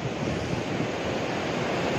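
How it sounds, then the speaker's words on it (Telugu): Krishna River water rushes through the opened dam gates at Vijayawada in a continuous, loud roar of broadband noise. The rush is steady, with no speech over it. "కృష్ణానది పరవళ్ళు తొక్కుతూ కనబడతాం మనకి ఇలా నీళ్ళ ఎక్కువైనప్పుడే మనకి ఇలా కనపడతాయి"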